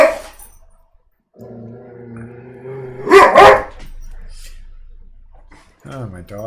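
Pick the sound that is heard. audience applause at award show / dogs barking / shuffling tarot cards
dogs barking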